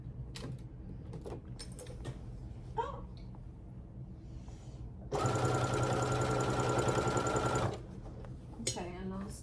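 A sewing machine stitches the straps of a market tote bag in one steady, loud mechanical run of roughly two and a half seconds, nearby, with quiet handling noises and a voice talking before and after the stitching.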